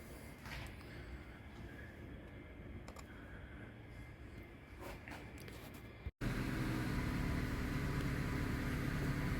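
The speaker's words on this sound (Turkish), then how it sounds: "Aracı çalıştırdık." A Honda Accord K20/K24 engine idles after a transmission fluid change, a quiet steady low hum that jumps to a louder, fuller drone about two-thirds of the way through.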